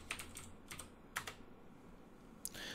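Quiet, close clicks of fingers typing on a computer keyboard, a short irregular run of keystrokes with brief pauses between them.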